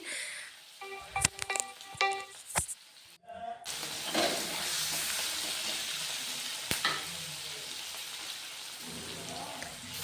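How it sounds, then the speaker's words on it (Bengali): Large batch of onions frying in oil in a pan, a steady broadband sizzle settling in after a few clinks and stirring knocks at the start, with a spoon scraping now and then. "পেঁয়াজটা ভালো করে তেলে ভেজে নিচ্ছি"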